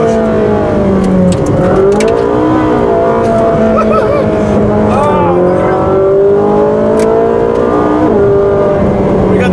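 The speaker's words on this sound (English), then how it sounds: "that revs so much faster than the Porsche" A Ferrari 458 Speciale howls loudly as it accelerates hard through the gears, the engine note climbing and dropping at each shift, while an occupant exclaims over it.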